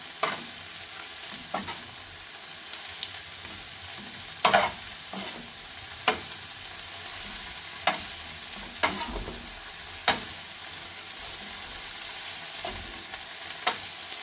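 Onions and shallots stirred in a hot frying pan while cooking a spinach thoran, a steady soft sizzle broken by sharp spoon scrapes and clacks every second or two, close up with no talking.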